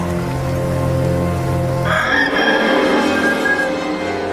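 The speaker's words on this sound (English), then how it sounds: "And at once, a rooster crowed." A loud rooster crows once nearby, a long drawn-out call that rises sharply midway and trails off.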